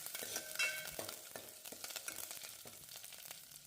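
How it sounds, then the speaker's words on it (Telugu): Garlic, red chillies and curry leaves fry in a little oil for tomato rasam, a soft close sizzle with a few scrapes of stirring over a brief stretch. "వెల్లుల్లి, రెడ్ చిల్లీ, అలాగే కరివేపాకు ఇవి 3 వేసేసుకొని కొద్దిగా ఫ్రై చేసుకుంటూ ఉన్నాను."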